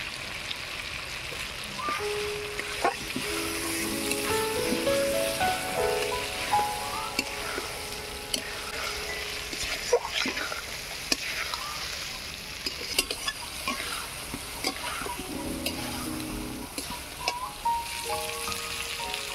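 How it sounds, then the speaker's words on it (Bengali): A paste of melon seeds, poppy seeds and cashews sizzles in a pan while being stirred for a pointed gourd dish, a steady close frying hiss with scraping and occasional soft clinks throughout. "এবারে দিয়ে দিচ্ছি আগে থেকে বেটে রাখা 4 মগজ, পোস্ত, কাজু বাটা"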